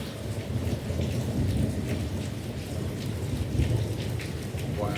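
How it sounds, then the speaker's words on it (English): Heavy rain pours steadily during a strong winter thunderstorm, with rumbling thunder rolling underneath and a dense wash of drops on surfaces throughout. "I think it's quite a strong winter storm here."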